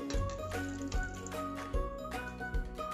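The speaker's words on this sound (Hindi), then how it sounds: "अब हम इसमें 1/2 कटोरी पानी भी डालेंगे।" Half a bowl of water goes into a semolina appe batter of suji and curd, giving a short run of wet plops and drips with soft taps against the bowl, close and fairly quiet.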